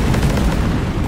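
Loud, dense booming and rumbling in the video game Deep Rock Galactic, a burst of overlapping chain-reaction explosions with no pauses.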